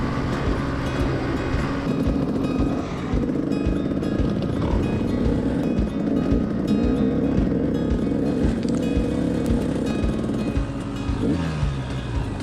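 A motorcycle ridden on a road near the Grand Canyon, its engine droning steadily and loudly throughout with heavy wind rumble, another rider's bike just ahead, no voices.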